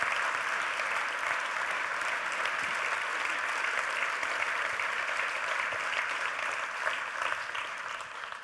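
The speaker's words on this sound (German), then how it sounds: "dass du jetzt noch einen ordentlichen Applaus bekommst" Sustained, dense applause from the audience at the EDF charity gala 2024 fills the room, steady and even throughout with a slight tapering at the end.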